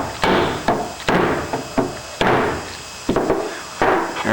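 A hammer taps bushings into an aircraft main gear leg in short, sharp knocks, about eight of them spaced irregularly. Each strike rings briefly and is close and fairly loud.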